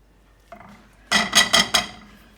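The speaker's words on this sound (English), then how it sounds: "put a lid on it and let it simmer for about 15 minutes" A metal lid set on a cooking pot of simmering quinoa, with one light clink and then four quick, loud clattering knocks close by as it settles.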